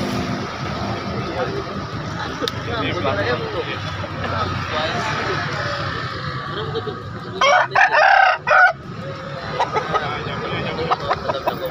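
A rooster crows loudly nearby amid a busy background of clucking chickens, people talking, and passing traffic at a chicken market in Makassar.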